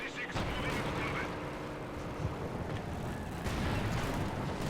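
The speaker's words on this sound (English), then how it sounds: "Oh, they have a lot of mortars coming in." Mortar shells landing in Company of Heroes 2, a dense barrage of booming impacts and gunfire in a continuous loud battle soundscape, with a voice talking over it.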